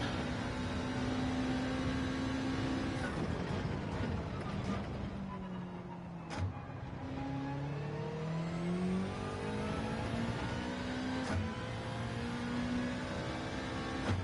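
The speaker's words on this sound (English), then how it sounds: "the engine is eating air faster than the turbo can produce it" A turbocharged race car in Gran Turismo 7 revs continuously, its engine pitch repeatedly sweeping up and down through gear changes, loud and sustained throughout.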